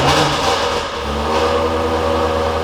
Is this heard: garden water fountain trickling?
no